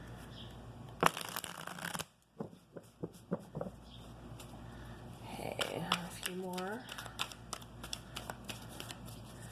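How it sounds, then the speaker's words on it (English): Tarot cards riffle and snap in quick bursts, followed by a series of soft taps and a final quick shuffle, with a quiet voice speaking briefly between them. "let me shuffle one more time."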